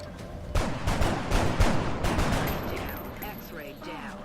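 Gunfire from a firing squad in the X-Com Enemy Within video game: a rapid cluster of overlapping shots over about two seconds, loud and close, then fading into scattered game effects.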